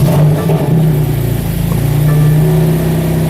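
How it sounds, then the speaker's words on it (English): BMW M2 Competition in Sport Plus with the exhaust valves open, giving a loud, steady engine drone heard from inside the cabin for a few seconds with no talk. "so I can hear the exhaust open up"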